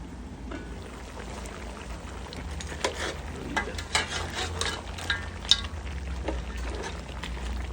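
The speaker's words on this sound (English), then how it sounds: "This is simmering down just very nicely, right?" Curry goat simmers gently in a pot, giving a soft continuous bubbling and faint sizzle with a few light clicks and pops close by, under a low steady hum.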